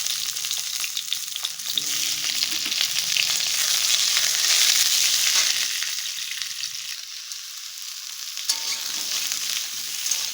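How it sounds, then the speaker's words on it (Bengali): Sliced eggplant frying in a little oil in a wok, a steady close sizzle that hisses continuously, with occasional stirring scrapes and no talk. "কড়াইয়ের মধ্যে দিয়ে দিয়েছি পরিমাণে অল্প একটু তেল। এবারে যে বেগুনটা কেটে রেখেছি এটাকে দিয়ে দেবো।"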